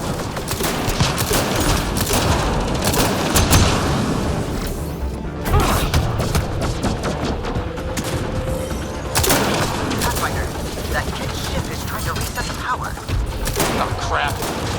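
Rapid gunfire from Mass Effect Andromeda hammers on almost without pause, dense bursts of automatic shots with occasional heavier booms, loud and close, while voices talk over the shooting.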